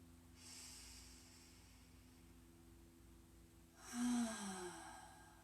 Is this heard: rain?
no